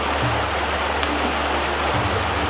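A flowing river or stream rushes in a wild outdoor setting, a loud, steady broadband wash heard up close and alone.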